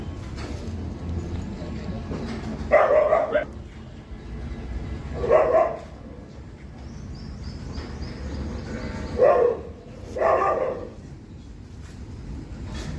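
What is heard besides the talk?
dogs barking at animal shelter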